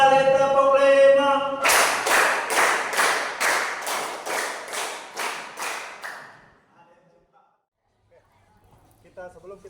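A group claps in unison in an exercise warm-up, about ten sharp, evenly spaced claps in a steady rhythm after a short spoken lead-in, then quiet with faint voices.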